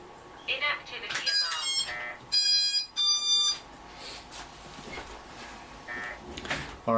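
An idle drone flight controller's inactivity alarm beeps in sharp, tonal bursts, two long high beeps standing out amid shorter chirps and a quiet background, with someone talking at times.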